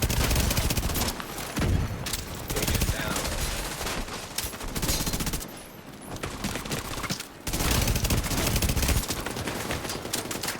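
Sustained automatic gunfire from The Division 2, dense overlapping shots and bursts with brief lulls, loud and continuous across the whole stretch.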